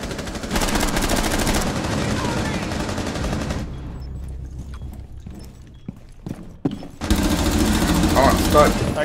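Gunfire in the video game Rainbow Six Siege, rapid automatic bursts that are loud and dense, a quieter gap with scattered pops, then another long burst of fire, with players talking over it.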